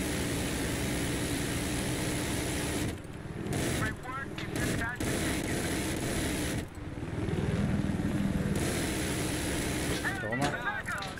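A jet aircraft in the video game Battlefield 3 produces a steady, loud engine roar throughout, with brief dips and faint game voices and beeps over it.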